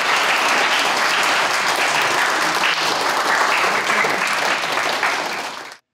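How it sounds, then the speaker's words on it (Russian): Steady, dense applause from a crowd of young people at a sports club event, loud and continuous before cutting off abruptly. "Аплодисментами ребята встретили председателя Совета депутатов Ленинского городского округа Станислава Радченко"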